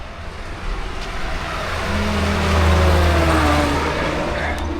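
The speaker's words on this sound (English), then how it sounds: "I love those armored cars here." An armored car passes on a street in a Philippine province, its engine rumble swelling to a peak mid-pass with a low droning tone and tire roar, then easing slightly as it moves on.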